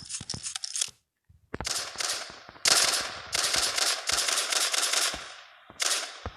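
Rapid automatic gunfire from a video game weapon rattles in loud, sustained bursts, with short gaps and single sharp shots in between, and no talking.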